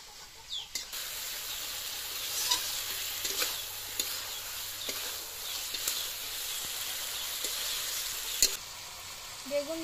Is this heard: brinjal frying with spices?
yes